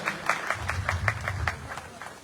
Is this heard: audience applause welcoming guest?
yes